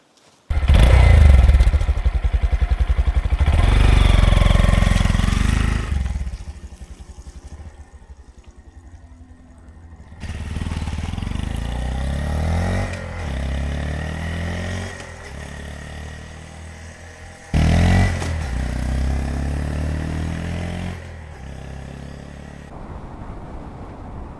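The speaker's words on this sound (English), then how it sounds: "I'm going to get back on this motorcycle and go for another little ride" A Honda Monkey 125 motorcycle engine idles with a steady putter, then revs and rides off, the drone rising and falling with a few clunks.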